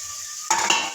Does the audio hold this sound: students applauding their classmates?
no